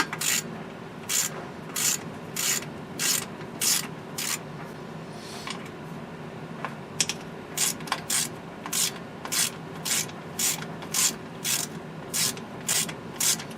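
Screws are backed out of the side panels of a GE 10T1 radio being restored, giving rapid ratcheting clicks in regular bursts, a pause midway, then another steady run of clicks, close and fairly loud.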